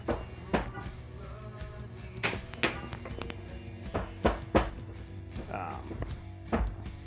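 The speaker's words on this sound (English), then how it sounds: "But I want to get these nice and crushed up" Dried chipotle peppers are crushed with a series of sharp, irregular knocks and thumps, close and moderately loud, spaced a second or so apart, over a quiet kitchen background.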